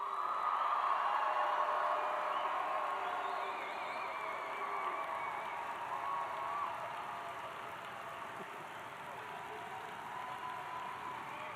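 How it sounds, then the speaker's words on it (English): A graduation commencement crowd in a large basketball arena roars steadily, a broad wash of cheering and applause that swells at the start and then holds at a slightly lower, sustained level throughout. "Cheer for our graduates."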